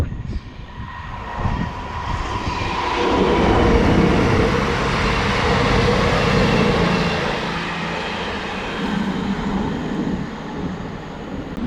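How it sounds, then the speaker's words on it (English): A cross-country passenger train on the Erewash Valley line passes at a distance beside a flooded river valley, a broad rumble swelling through the middle and fading slowly away, with steady outdoor wind noise and no talk. "that's a cross-country service heading north"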